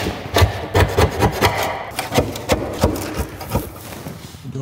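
A hand scraper rasps repeatedly during work on fitting an AWD Honda viscous coupler, its strokes coming in an uneven rhythm of short, sharp scrapes, close and fairly loud.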